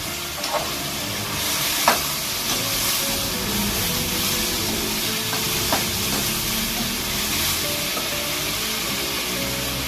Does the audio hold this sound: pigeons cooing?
no